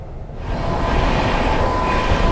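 The 12417 Prayagraj Express passenger train runs along the line and picks up speed, a loud, close, continuous rumble of wheels and carriages with a faint steady whine above it.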